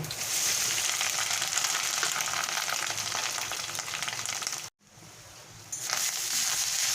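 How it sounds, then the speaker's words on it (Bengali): Coconut fries in a pan with cumin seeds, a loud, continuous sizzle, briefly interrupted and quieter for a moment before the crackling resumes. "নারকেলটাকে আমি ভালো করে ভেজে নেব"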